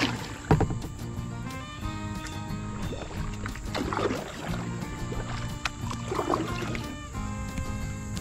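A skinny 13-foot kayak moves downstream on a creek with steady, unhurried paddle strokes and gentle water sounds close by, under a constant low background hum.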